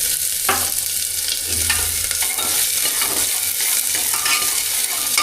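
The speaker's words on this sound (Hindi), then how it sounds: "तेल तो हो गया गर्म, अब इसके अंदर प्याज को फ्राई कर लूंगा।" Onions sizzle steadily in hot oil in a pan, a continuous loud hiss with occasional stirring scrapes and clanks, close by, no voices.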